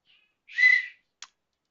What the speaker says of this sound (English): Blowing a bloody whistle now.